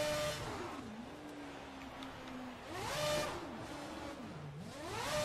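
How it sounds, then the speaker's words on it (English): An F1 car in the racing game F1 2011 revving repeatedly, the engine pitch climbing and falling in three surging waves, fairly faint with a steady hiss beneath. "Can you burn out the tires? Can you hit the brakes and rev it up?"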